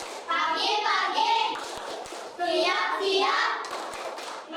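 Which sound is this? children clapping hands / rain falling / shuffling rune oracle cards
children clapping hands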